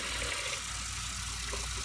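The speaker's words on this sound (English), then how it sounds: "I start with straight hot water." Hot water running steadily from a sink tap, a continuous hissing splash with no pauses, close and fairly loud for under two seconds.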